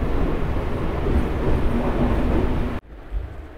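A MEMU passenger train leaving Bhimavaram Junction gives a loud, continuous rolling rumble that cuts off abruptly near the end, leaving faint background.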